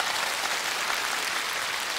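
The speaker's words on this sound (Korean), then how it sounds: "여러분들 우선 수고의 박수를 크게 주시기 바랍니다" Audience applause at the Hwasun County, South Jeollanam-do stop of a televised outdoor singing contest, a steady dense wash of clapping that holds evenly for the whole stretch with no voices over it.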